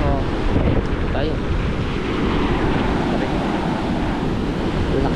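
Big ocean waves surging and crashing close by in a steady, loud wash, with heavy wind buffeting the microphone throughout and no talk.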